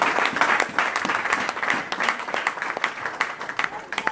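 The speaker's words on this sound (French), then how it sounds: "Par la grâce de Dieu, acclamons pour eux." A church congregation applauding, dense continuous clapping from many hands that stays loud and close for the whole stretch, with voices mixed into the crowd.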